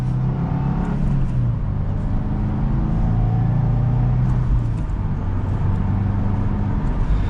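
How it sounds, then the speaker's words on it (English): A 2022 Subaru WRX Premium turbocharged car accelerates gently, a steady close engine drone with slowly building pitch under continuous road noise, no speech. "we'll give it one last mild acceleration for today's video"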